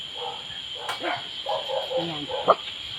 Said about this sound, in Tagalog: May mga nag-welcome sa atin na mga aso.